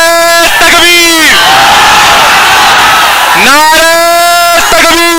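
A large crowd at Mecca Masjid chants the takbir slogan Allahu Akbar in loud unison, two powerful harmonic shouts separated by a brief lull of crowd noise.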